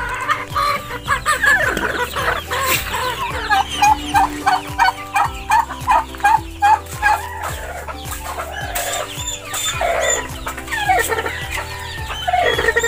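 Several hens cluck repeatedly in a short, busy rhythm, with a rooster-like call mixed in, close by and fairly loud against background farmyard noise.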